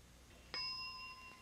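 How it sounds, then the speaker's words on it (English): A single bright game-show bell dings once, sharp and clear with a ringing tone that holds and slowly fades, from a 1988 television word-guessing show, heard alone in a quiet studio. "start your description when you hear the bell"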